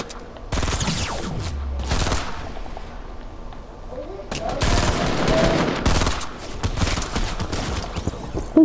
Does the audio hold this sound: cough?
no